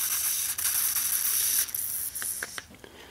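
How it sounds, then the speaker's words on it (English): A short burst of WD-40 lubricant sprayed onto a worn mechanism: a steady, close, airy hiss for about a second and a half, then a few light mechanical clicks and rattles. "maybe I'll just give it a little spray of some WD-40 here too"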